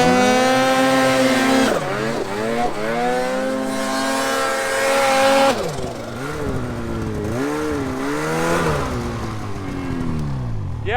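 Snowmobile engine revved in strong rising and falling throttle blips, loud and close, with a steady high-pitched whine between pulls during a ride on a sled.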